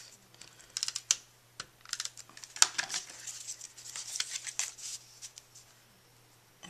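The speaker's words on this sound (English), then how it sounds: "And for this, I just use some regular snail adhesive." A snail adhesive tape runner laying glue onto paper for the handles of a purse-shaped gift card holder, giving a run of light, quick clicks and rasping rolls at close range, spaced irregularly with short pauses between strokes.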